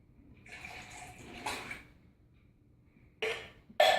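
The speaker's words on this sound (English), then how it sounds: "we're just gonna pour the 2 pineapples into the bowl." Canned pineapple is poured into a bowl: wet, splashy pouring sounds come in a few bursts, with a quiet gap between them and two sharp, sloshing splashes at the end.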